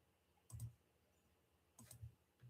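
A computer keyboard clicks in three short, sparse bursts of quiet taps separated by silence, close and alone.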